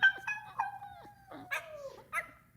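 Small puppies give a string of high whimpers and yips, close and fairly quiet, with short gaps between calls.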